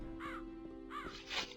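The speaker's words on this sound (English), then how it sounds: "that was a loud bird" A loud crow cawing twice in the Gothic 2 game, each call harsh and clear against a steady ambient hum, followed by a brighter rustle.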